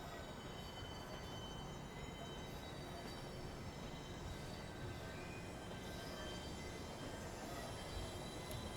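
A train rolls past in Train Simulator Classic on the London to Faversham high speed line, a steady, loud, continuous rumble with faint wheel squeal and no break in sound.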